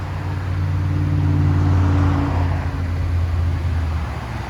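A 2019 Ford F-150 XLT with the 5.0-liter V8 runs close by with a loud, deep rumble that swells briefly in a rev before settling back to a steady drone.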